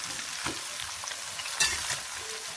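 Potatoes and cauliflower fry in a pan with a constant hissing sizzle, broken by a few soft scrapes and clinks as they are stirred; no voices are heard over the short stretch.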